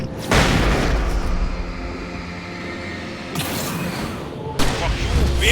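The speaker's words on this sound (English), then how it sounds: "Flashbang." A flashbang grenade goes off in the game Alan Wake Remastered, a sudden loud boom with a bright burst of hiss that lingers as a steady rumble, followed by a second sharp blast near the end.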